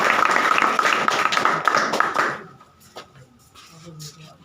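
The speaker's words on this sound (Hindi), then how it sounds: "उनके मेहनत के लिए भी एक बार जोरदार तालियां" A burst of loud applause from a crowd at a student award ceremony for about two seconds, then fading into scattered claps and quiet room noise.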